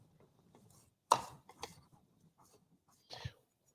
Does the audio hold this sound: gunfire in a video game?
no